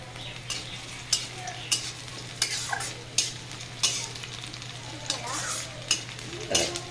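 Onion and chili tempering sizzles steadily in a pan on a home stove, with spoon scrapes and clinks against the metal recurring about every half second, close and fairly quiet.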